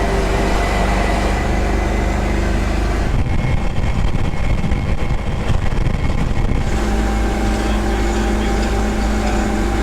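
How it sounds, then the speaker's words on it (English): A 6x6 spud truck drives at highway speed, its engine and road roar loud, steady and continuous throughout, with a rougher, heavier stretch in the middle. "We're motoring right along in this kind of terrifying truck."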